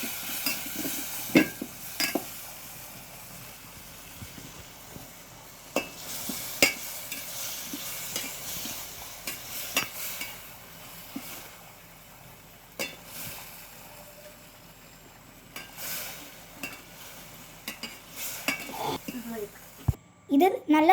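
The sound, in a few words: stirring tomato chutney frying in a pan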